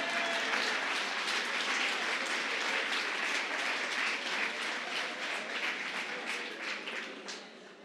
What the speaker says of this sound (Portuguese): Pode aplaudir que é forte, Brasil.